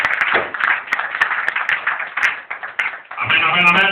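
A church congregation claps together in praise, a steady run of many hands at close range with singing or voices carrying over it, then dropping toward the end as one voice speaks.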